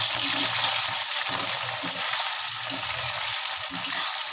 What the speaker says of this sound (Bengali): শুকনো লঙ্কাটা দিয়ে দেবো, চিংড়ি মাছ দিয়ে ভেজে নেব।